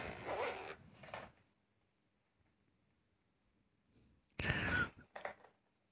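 Zipper closing on a waterproof case for a SanDisk portable SSD: two short bursts of zipping at the start and two more near the end, close and crisp, with quiet pauses between.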